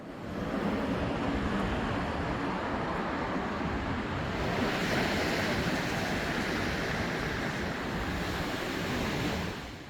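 Ocean surf on a Yangyang beach, South Korea, rumbles steadily with a broad roar of strong breaking waves, a swell building midway, mixed with wind buffeting the microphone; no voices.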